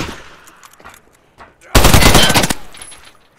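A short burst of rapid video game machine-gun fire erupts midway, loud and close, after quieter moments with faint voices and clicks.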